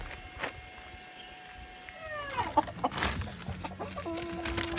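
Several short clucking calls from two roosters, fairly close, rising over a low background hum in the second half.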